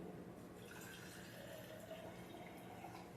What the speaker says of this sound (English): So I'm gonna have to put some water on it